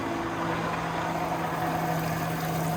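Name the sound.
water pumps kicking on, tank draining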